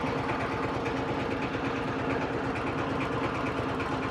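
A motorboat engine runs steadily throughout at Chandpur, a constant rattling drone at moderate volume with no talk over it.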